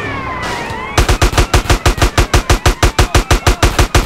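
Grand Theft Auto: San Andreas: a loud rifle fires a rapid, evenly spaced burst of about a dozen and a half shots, following a brief lead-in of game ambience.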